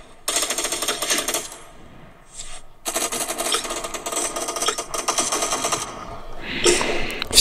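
Rapid, continuous bursts of automatic gunfire in the mobile game Cyber Hunter, loud and close, broken by a short pause, with crackling shots overlapping toward the end.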